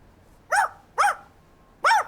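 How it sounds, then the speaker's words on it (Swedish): A cartoon dog barks three times, each bark sharp, loud and close, spaced about half a second to a second apart, with quiet gaps between and no talking. "Den där högljudda hunden håller oss vakna."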